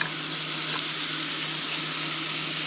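Onion and pepper sizzle steadily in a pan, an even, close frying hiss that runs without a break, with no voices.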